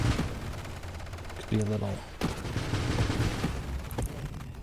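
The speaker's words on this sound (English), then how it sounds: "how many bullets, explosions are going off" Rapid bursts of sci-fi gunfire and explosions in the space shooter Nova Drift, a busy, continuous barrage with a few heavier booms, heard under someone talking.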